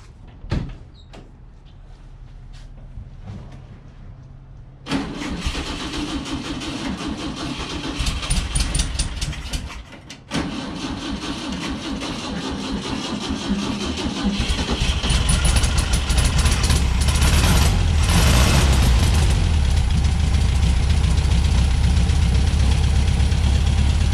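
A 1963 VW Beetle under revival: a few mechanical clunks and knocks, then the engine cranks and catches. It settles into a loud, continuous running roar that swells over the following seconds, close by.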